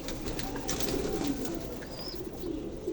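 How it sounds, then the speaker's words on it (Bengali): Caged pigeons on a farm coo in soft, low, rolling calls, close by and repeating over a light background hiss, with no talking. "এই যে এই খাঁচা কবুতরগুলো এখন তো ছাড়ি নেই,"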